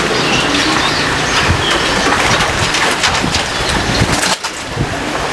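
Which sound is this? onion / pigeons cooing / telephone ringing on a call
pigeons cooing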